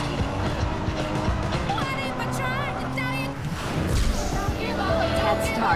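Cars in the Driver San Francisco racing video game, one spinning out with loud tire squeal and skidding over a steady engine roar, continuous and close throughout, with a voice speaking over the game sounds.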